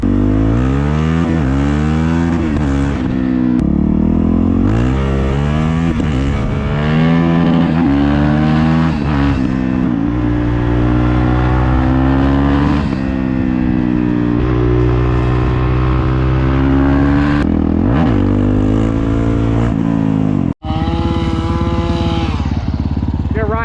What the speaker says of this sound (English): I'll do like a first gear, second, third, and I'll see the pull from that